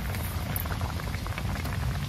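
A pot of rice boiling on a stove gives a loud, continuous, close bubbling and simmering hiss that holds steady throughout, with no talking.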